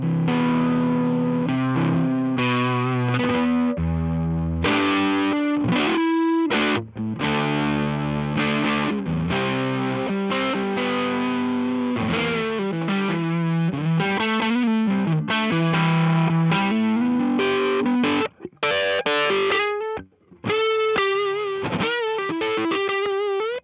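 An electric guitar plays through a Mozztronics EX-1 Expandrive distortion pedal as the expand knob is turned, giving loud, driven chords and riffs with a couple of short gaps.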